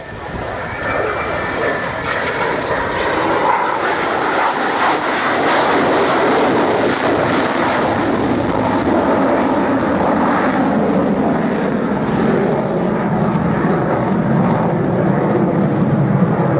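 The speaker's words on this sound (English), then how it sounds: "Undercarriage down now, but not to land, as Gizmo brings the aircraft in for a low approach" At an airshow, an aircraft comes in low with its undercarriage down for a low approach pass, its loud engine roar swelling and holding steady as it passes close by.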